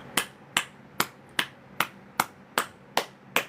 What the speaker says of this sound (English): Now, clap. You're going to clap.